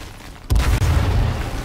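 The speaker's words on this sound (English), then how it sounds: "This guy just spams 8 grenades at me." A grenade blast in the video game H1Z1, a sudden loud, deep boom that rolls on as a heavy rumble.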